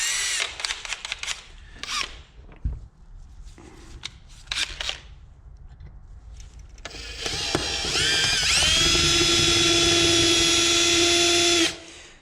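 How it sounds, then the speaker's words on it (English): A power drill bores out a stuck part on a Raptor 350 engine. Scattered clicks and handling noises come first, then a loud, sustained, high drill whine runs for several seconds before cutting off. "I gotta drill it out"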